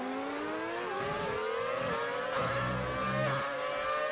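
An F1 car in a racing video game at Spa-Francorchamps whines as its engine pitch climbs, then drops and shifts with braking, with layered tones from other cars audible throughout and no talk.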